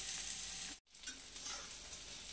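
Eggplant slices frying in a pan with neem leaves, stirred gently, give a steady close sizzle and scraping, broken by a brief silent gap before the frying hiss resumes.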